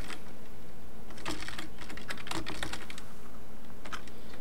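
Typing a username on a computer keyboard: bursts of close, crisp key clicks, a quick run in the middle and scattered taps toward the end, with no talking.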